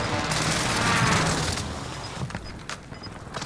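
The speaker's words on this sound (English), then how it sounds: "Precision airstrike incoming." Airstrike explosions in a battle royale video game, a dense rumbling barrage of blasts and gunfire-like booms that fills the first half and then fades to scattered lighter pops.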